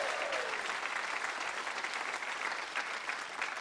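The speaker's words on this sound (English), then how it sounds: "So give him a big round of applause." A concert audience gives a big round of applause, a full, even crowd clapping that continues steadily for a few seconds at moderate loudness.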